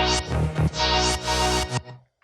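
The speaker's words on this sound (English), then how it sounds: "You have this kind of filter house synths that I've made with this auto filter and this automation" A French house style filter synth with auto filter automation plays loud sustained chords, its brightness sweeping up and down across a few swelling bursts before cutting off into a short decaying tail.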